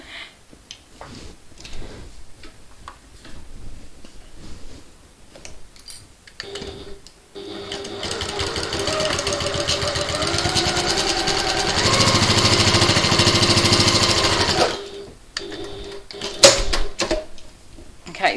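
A sewing machine stitches tabs onto a backpack strap, running in one steady rapid whir for several seconds mid-stretch, with quieter fabric handling and small clicks before and after.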